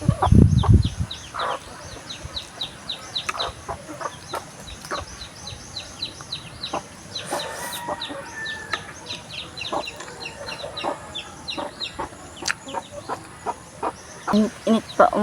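A gamecock clucks repeatedly in short, irregular bursts, fairly close, amid outdoor background noise with occasional other bird calls.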